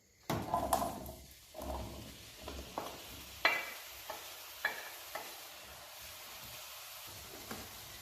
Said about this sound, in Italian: Ho messo a scaldare in padella un bel giro d'olio e adesso aggiungiamo le melanzane tagliate a dadini